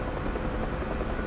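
A Bell UH-1 Huey helicopter flies through snow, its broad, roaring rotor and turbine noise loud and continuous, close to the listener, with no speech.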